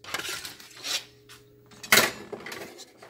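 A fork scrapes and clinks against a pot while stirring grits, with light metallic scraping and one sharp clank partway through, close and fairly quiet with no talking.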